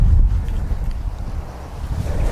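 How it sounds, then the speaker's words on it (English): Steady low rumbling wind buffeting a microphone, continuous and close throughout with no other sounds. "Now, really windy here today,"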